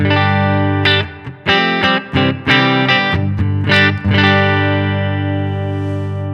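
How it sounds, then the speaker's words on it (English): Electric guitar played through a Fender Princeton Reverb amp model with reverb and slight grit: a few bright strummed chords, then a sustained chord ringing out and fading. "So here we are with the Princeton Reverb"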